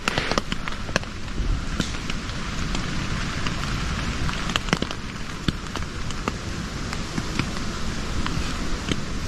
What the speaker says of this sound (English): as rain taps gently against his shelter